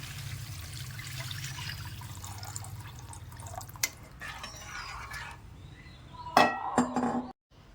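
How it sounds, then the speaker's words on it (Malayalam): Water pours into a cooking pot for semiya upma, a soft trickle followed by dripping, then a few sharp clinks of metal near the end, close by and with no talk. "വെള്ളം ഒഴിക്കുക"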